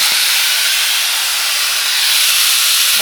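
A hair dryer runs with its attachment fitted, giving a steady, close, loud airy hiss of blowing air that holds constant for the whole stretch.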